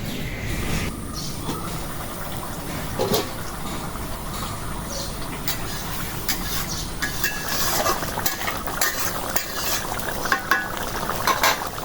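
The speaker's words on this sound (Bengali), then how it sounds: "জিরার গুঁড়া দিয়া নাড়াতে" A spoon stirs river mola fish curry cooked with ground spices in a pan right after cumin powder goes in, giving continuous scraping and gentle sizzling with occasional metallic clinks.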